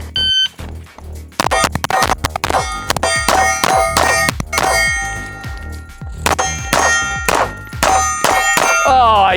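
Pistol shots fired weak-handed at steel targets, with sharp gunshot cracks each followed by a bright metallic clang and ringing ding. A quick string of repeated impacts near and far, with no talking.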